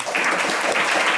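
Audience applause at an architecture lecture, a dense, steady wash of many hands clapping at full strength throughout, with no voices over it.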